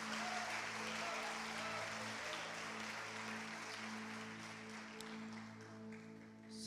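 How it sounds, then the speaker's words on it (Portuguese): Steady applause from a church congregation fills the space, with sustained musical tones underneath and faint voices mixed in. "pode aplaudir a Jesus com vontade."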